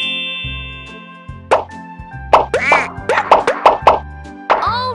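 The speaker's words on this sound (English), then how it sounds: "Now tap all the bubbles to pop them." Cartoon bubbles in a Paw Patrol game pop one after another in quick, bright plops, about a dozen in irregular bursts over light background music.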